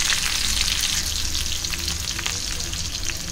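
Chopped onion fries in hot oil tempering for a Malvani Tarali fish chutney, a loud continuous sizzle with light stirring close by.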